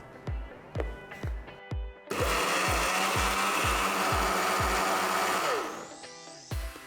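A mixer grinder whirs loudly and steadily for several seconds, grinding moong dal batter with a dash of water, preceded by a few dull knocks, then winds down.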